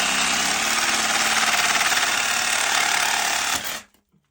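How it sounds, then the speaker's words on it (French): Loud, continuous buzzing of a power saw cutting through a broken PVC pipe in the ground, rapid vibrating rhythm, then abruptly stopping near the end into silence. "Donc là, ça y est, on a coupé le tuyau."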